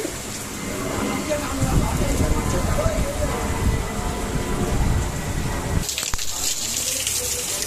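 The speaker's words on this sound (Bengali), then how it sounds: "আজকের দিনেও বৃষ্টি।" Heavy rain falls steadily with gusty wind during a Vishwakarma Puja festival day, a dense continuous roar filling the whole stretch, shifting to a harsher hiss near the end.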